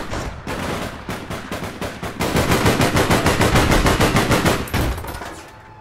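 Rapid automatic gunfire in the online shooter APB Reloaded: loud, dense bursts of machine-gun fire with a brief pause, then a long sustained volley that cuts off abruptly, with no talking.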